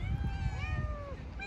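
A thin stray cat meows in one drawn-out, wavering cry outdoors, over a rumbling low background.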